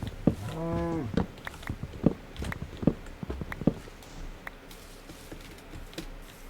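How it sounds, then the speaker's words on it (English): A single drawn-out, tonal cow moo from Minecraft rises early on, followed by soft scattered footsteps and clicks over a quiet background. "I'm trying to not hurt the cows because I can set up a pen for them once I have the land."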